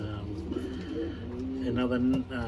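A young reverse wing male pigeon coos in a loft, with a few soft, low rolling coos, fairly quiet and close.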